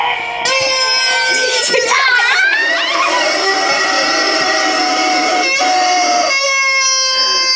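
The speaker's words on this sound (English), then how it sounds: "You like that chicken, Nika?" Giant toy chicken squeezed into a loud, close, drawn-out screaming squawk that wavers and bends in pitch, with a second shriek toward the end.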